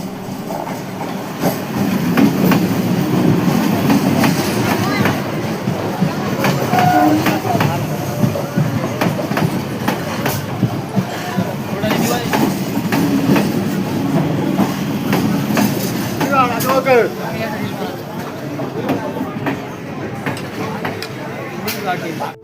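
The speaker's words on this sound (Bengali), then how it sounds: "আর এখন আমাদের কিন্তু ট্রেন তার নিজের গতিতে ছুটে চলেছে" Train rumbling along rails with rhythmic clicking and steady mechanical noise heard from inside the carriage near Diamond Harbour, while people talk intermittently.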